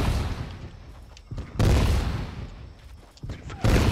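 Fortnite shotgun blasts, three loud heavy shots spaced a couple of seconds apart, each with a booming decay, under quieter game ambience.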